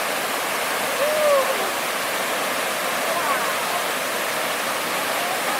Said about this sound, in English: rock face here that'll be fun to paint with some water spilling off of it